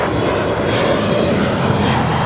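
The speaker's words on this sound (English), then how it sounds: "we get a closer look of this Korean Air 777-300ER wearing the 200th Boeing sticker" A Korean Air Boeing 777-300ER jet roars on takeoff at LAX, a loud, steady, broadband engine rumble filling the whole short stretch without pause.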